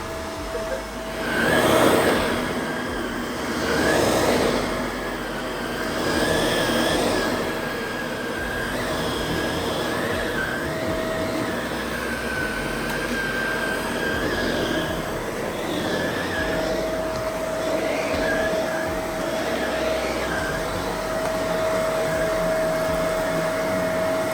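A Shark Rotator Powered Lift-Away NV752 upright vacuum cleaner runs on carpet with a loud, steady motor whine and brush roll roar, swelling and dipping as it is pushed back and forth.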